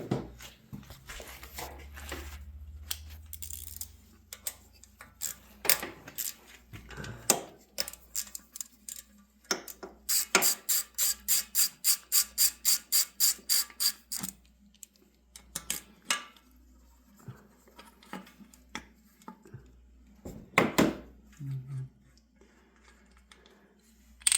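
A ratchet backs out 8mm bolts on a broken Honda Rincon ATV engine. A quick, even run of close metallic clicks stands out in the middle, with scattered clinks and taps before and after and no speech.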